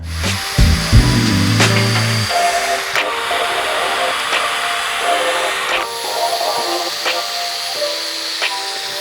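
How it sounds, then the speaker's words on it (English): A power drill drilling holes in wood for a quarter pipe ramp, whirring steadily up close with a high whine and hissy noise, its pitch shifting slightly as it bores in. "So I'm gonna go ahead and just drill holes here."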